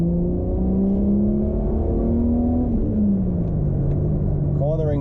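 A Ford AU Falcon drives and corners with its engine droning steadily from inside the cabin, pitch rising then easing as it turns, a continuous loud rumble with a voice speaking briefly over it.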